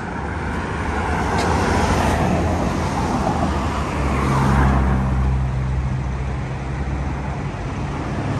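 A new 2022 Isuzu truck rolls down off a transporter, a steady low engine rumble with road-like broadband noise that swells slightly midway, close and continuous, with no speech.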